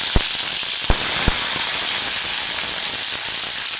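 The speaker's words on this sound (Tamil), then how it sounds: "ஆயில் காஞ்சதும் நம்ம அறுத்து வச்சுருக்கிற தக்காளி எடுத்து அதில் போட்டுக்கலாம்." Chopped tomatoes sizzle in hot oil in a kadai for chicken gravy, a loud steady hiss broken by a few sharp pops near the start, close by with no voices.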